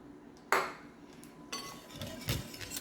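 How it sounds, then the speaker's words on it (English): Two cups of broth stirred into a cooled dark dry roux in a pot for chicken and sausage gumbo, a sharp metallic clink of the spoon on the pot followed by softer scraping and sloshing, faint and close. "And I'm going to mix those 2 cups of broth in with that flour."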